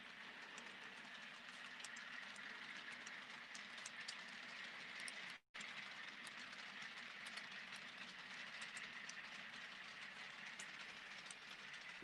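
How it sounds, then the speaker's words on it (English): Model train running on a layout, a faint, steady rolling rumble with light rail clicks continuing throughout, broken by a split-second dropout near the middle. "We'll take a train up the mountain and show you the pretty part of the layout again"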